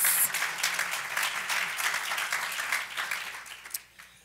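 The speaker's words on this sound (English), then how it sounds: "that gets a round of applause" Audience applause at a university forum on education, a moderately distant wash of clapping that holds steady, then thins and tapers off with a few last claps near the end.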